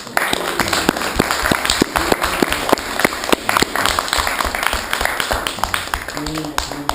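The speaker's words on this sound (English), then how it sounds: "we want to give you just an amazing round of applause" A small crowd claps steadily for about seven seconds, sharp overlapping hand claps close by and fairly loud, with a faint murmur of voices underneath, giving a round of applause to honor a community spokesperson.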